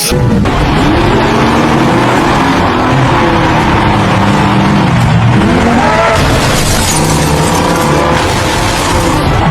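Race cars starting a race in a video game: loud, continuous engine roar with pitch sweeping up and down as engines rev and shift, under a dense, noisy mix.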